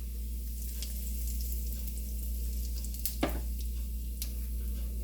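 Cumin seeds and a pinch of asafoetida sizzle in two spoons of hot oil in a pan, a steady close crackle with a low hum beneath and a brief clink partway through; no talking.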